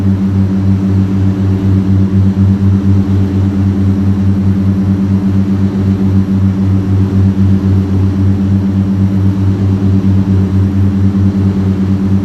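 Steady, loud propeller-aircraft engine drone with a constant low hum, heard from the cockpit while flying after departure from Monterey Airport (KMRY) in the Aerofly FS2 flight simulator.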